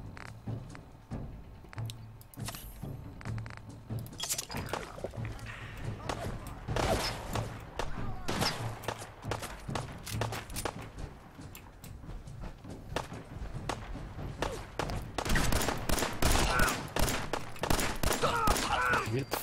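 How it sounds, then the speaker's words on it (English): Rapid bursts of gunfire and shotgun blasts in a Fallout 4 firefight, repeated sharp cracks over a busy game soundscape with footsteps, growing denser toward the end, with someone talking at times. "I'm certainly getting shot at a lot."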